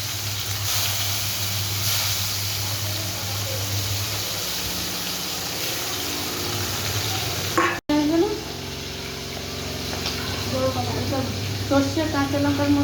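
Pieces of hilsa fish sizzling and spitting in hot oil with nigella seeds in a home kitchen, a steady loud frying hiss that jumps with fresh bursts as more pieces go in, while someone talks over it.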